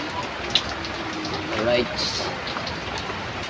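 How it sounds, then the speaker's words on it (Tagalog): Steady rain patters in a continuous hiss, with a voice speaking briefly over it. "Naulan pa"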